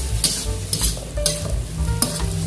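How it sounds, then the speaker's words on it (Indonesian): A spatula scrapes and stirs young corn and vegetables frying in a pan, giving a steady close sizzle with a rhythmic scrape about every half second. "Buka dan aduk-aduk sayurannya"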